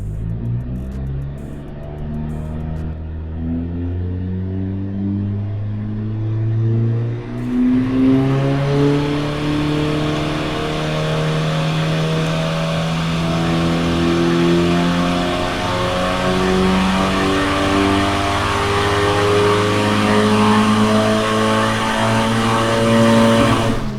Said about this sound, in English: I'm just going to literally test it on the dyno as you do to see what kind of spring pressure we've got